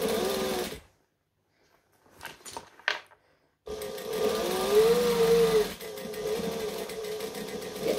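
A domestic sewing machine stitching fabric runs in a steady close whirring drone, first briefly, then after a pause with faint handling clicks it starts up again and keeps stitching with a short dip partway through.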